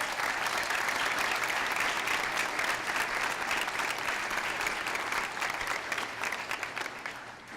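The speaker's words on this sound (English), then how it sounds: "So please, a round of applause for our teachers today." A school audience at a junior high celebration applauds its teachers with sustained, full clapping from a sizeable crowd, steady for several seconds and then gradually tapering off.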